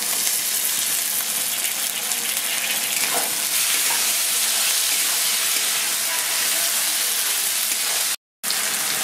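Onions with ginger and chili paste sizzle steadily in a hot pan as tomatoes go in, a dense continuous frying hiss with faint stirring, close and loud, cut by a brief silence near the end.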